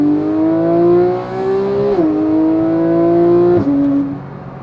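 A Porsche GT3 engine held at high revs above 5,000 RPM, a loud, smooth, steady howl that dips briefly twice as it shifts, then eases off at the end.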